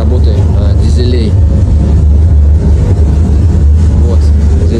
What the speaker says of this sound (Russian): Воссоздан оригинальный звук работы дизелей.